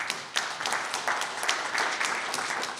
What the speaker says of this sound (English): A round of applause for founder 3.